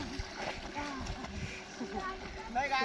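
A person wading into cold Godavari river water, making small irregular splashes and sloshes close by, with voices talking over the water sounds throughout.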